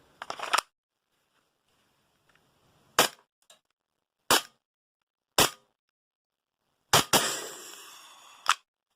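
Walther PPQ gas blowback airsoft pistol by VFC (Umarex) firing about six sharp, spaced shots, each a loud close crack, with a short hissing tail after one near the end.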